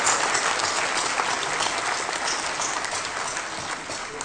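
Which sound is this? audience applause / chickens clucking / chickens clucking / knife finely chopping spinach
audience applause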